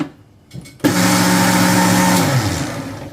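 After a short quiet start with a few clicks, a mixer grinder kicks on loudly and whirs steadily, grinding soaked rice into a coarse batter for pundi, the motor pitch shifting slightly near the end.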